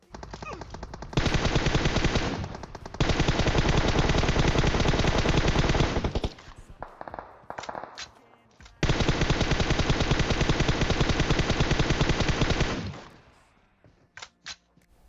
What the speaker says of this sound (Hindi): बीच सड़क में, बीच रोड में गाड़ी रोक के यार गोली चला रहे हैं।